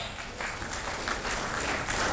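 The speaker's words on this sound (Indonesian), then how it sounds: "Tepuk tangan untuk Arif Dewantoro" Short burst of audience clapping at a security conference, steady and moderately distant, filling the whole moment without speech.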